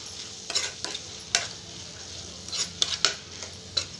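A spoon stirs a pan of curry seasoned with salt and chili powder, with a low sizzle beneath and several sharp metallic scrapes and clinks against the pan, close by and irregular.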